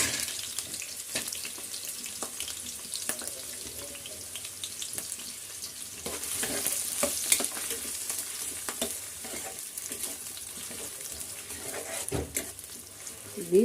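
Onion and green chilli frying in oil give a steady, close sizzle with occasional scraping stir clatter, and no one speaks.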